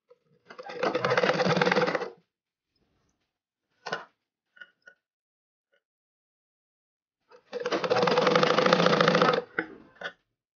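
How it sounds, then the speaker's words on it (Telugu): Sewing machine stitching a frock in two steady bursts of rapid mechanical chatter, each about a second or more long, separated by a pause with a few isolated clicks and taps from handling the fabric and machine. "ఇలా పట్టుకుని లాగేయకుండా నిదానంగా మనం స్టిచ్ చేసుకుంటూ రావాలి"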